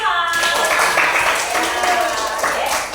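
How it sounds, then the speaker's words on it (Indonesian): A class of grade 5 pupils claps hands together in a dense, steady burst of applause lasting a few seconds, loud and close, with some children's voices mixed in. "Tepuk tangan buat kelas 5."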